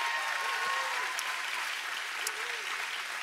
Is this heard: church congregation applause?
yes